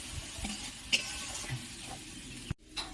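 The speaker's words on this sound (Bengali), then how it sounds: "মশলাটাকে ভালো করে কষিয়ে নিতে হবে" Masala paste being stir-fried and scraped in a pan for a Bengali fish finger recipe, with a soft steady sizzle, occasional light spatula knocks and a brief sharper clink, no talking.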